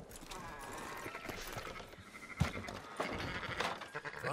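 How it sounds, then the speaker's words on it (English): Sheep bleat in Red Dead Redemption 2 amid busy outdoor game ambience, with clopping horse hooves and other livestock sounds mixed into a steady, fairly dense background. "Fine sheep."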